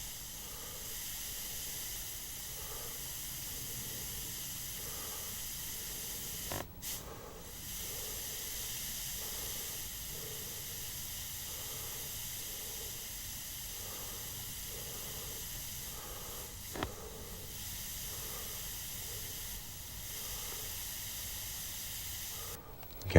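An airbrush gives off a steady, soft hiss of sprayed paint during fine micro-detail work, continuous and close, broken by two brief clicks.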